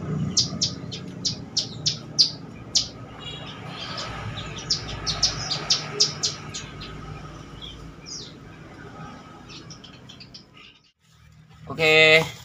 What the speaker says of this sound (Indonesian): Ini adalah anakan burung perkutut ya